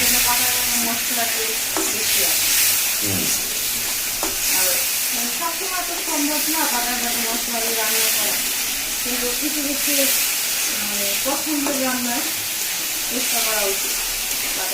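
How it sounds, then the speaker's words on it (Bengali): Ground spice paste for chicken sizzles and hisses steadily in a hot pan while being stirred and scraped, the constant frying noise running under someone talking throughout. "মশলা কষানো হয়ে গেছে"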